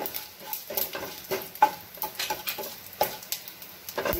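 Bay leaf and panch phoron crackle in hot oil, with light sizzling and a run of small irregular pops and stirring ticks close by.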